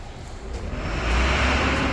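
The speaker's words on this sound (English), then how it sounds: "Pardon the forklift noise." A low forklift engine rumble building and holding steady nearby in a marina, like heavy machinery working close by.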